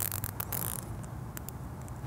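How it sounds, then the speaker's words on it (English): A plastic zip tie is ratcheted tight in a costume build, producing a rapid run of quick clicking zips over a steady low background hum, followed by a few isolated sharp ticks, close and quiet. "to attach this to the zip tie, I'm gonna use another zip tie."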